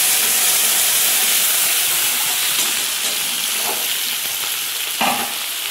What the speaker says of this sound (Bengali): দিয়ে ভালো করে একটু ভাজা ভাজা করে নেব।